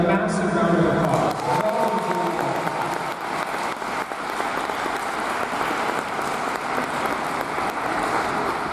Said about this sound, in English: Let's give all the cadets another massive round of applause